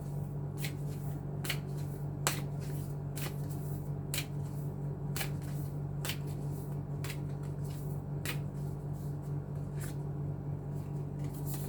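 Tarot cards shuffled and drawn in a quiet room, a dozen crisp flicks and slaps at uneven intervals over a steady low hum, close and fairly soft.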